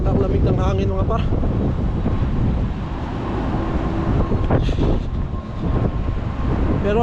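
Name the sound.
cold wind blowing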